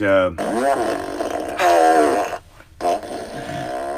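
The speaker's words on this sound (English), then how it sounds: "one thing about the fart machine is it's slightly hard to control." A handheld fart machine sound effect gives several long, loud, buzzing, wavering blasts over a few seconds, with short gaps between them.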